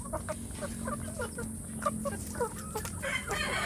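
Free-range village chickens and a large rooster cluck in a busy farmyard, with short repeated clucks overlapping close by over steady background noise.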